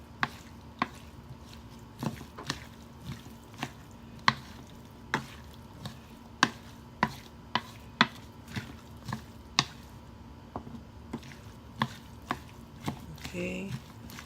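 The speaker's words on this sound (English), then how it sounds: "So I'm gonna mix all this together and make sure I get all the ingredients well mixed." Octopus salad ingredients mixed in a bowl: a steady series of sharp, regular clicks and taps of a utensil against the bowl, with soft wet squishing between, fairly close and alone.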